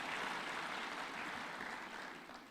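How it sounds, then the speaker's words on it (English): An audience applauds tree-planting institutions at a Kenyan presidential address, a dense, continuous wash of many hands clapping that holds steady and fades slightly at the end, fairly distant. "A round of applause for those institutions, please."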